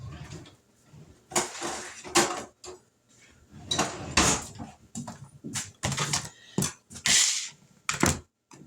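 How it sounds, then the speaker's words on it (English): A cutting board and knife are pulled out in a home kitchen, giving a run of clattering knocks, scrapes and clinks at close range with no talking. "let me grab a cutting board and a knife"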